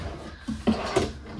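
A drawer in the kitchen of a 2024 Keystone Bullet 287RLS travel trailer slides and thumps shut, a couple of short knocks close by with faint room noise around them.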